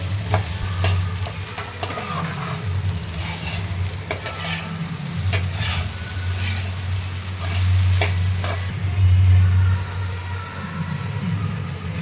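Soaked poha is stirred and mixed in a pan, a steady scraping and stirring churn with soft sizzling that continues throughout at moderate loudness, with no voices.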